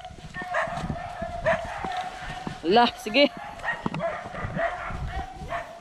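Dogs bark and yelp excitedly in short, uneven bursts, with a couple of louder, closer barks midway, mixed in with people talking nearby.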